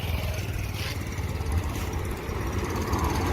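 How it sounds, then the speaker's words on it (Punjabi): A Massey Ferguson 246 tractor, a 2011 model, runs at a tractor market in Malout, Punjab, its engine giving a steady, close, low rumbling idle with no talk over it. "ਉਸ ਤੋਂ ਅਗਲਾ ਟਰੈਕਟਰ ਆ ਗਿਆ ਜੀ ਮਾਈਸੀ 246"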